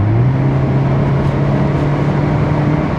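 An unmodified Mercedes SLK 200 engine, stock exhaust, runs at a steady idle, a close, continuous low hum with a slight rise in pitch at the start.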